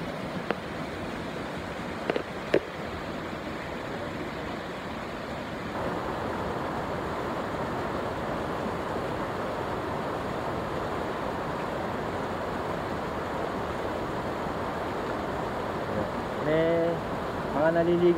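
Sacred waterfall on Mount Banahaw, a continuous broadband rush of falling and flowing water heard close and steady throughout, with a few faint clicks and brief bird-like chirps near the end.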